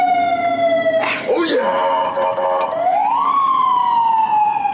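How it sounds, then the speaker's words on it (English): A police car siren wails loud and close, holding a steady tone and then sweeping up and down in a slow cycle, while a voice briefly shouts over it. "Put on the sirens."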